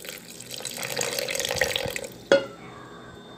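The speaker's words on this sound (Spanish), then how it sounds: "Entonces tenemos que agregarle más agua." Water poured into a thick blended sauce for papadzules in a home kitchen, a steady splashing pour that cuts off abruptly with a short clunk.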